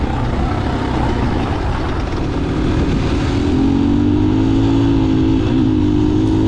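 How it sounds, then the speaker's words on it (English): A 2021 KTM 500 EXCF dual-sport dirt bike riding along gravel fire roads in southern Oregon, a steady close engine drone under heavy wind rush with a slight rise in pitch midway, no talk. "Just go out and have some fun riding your dirt bike."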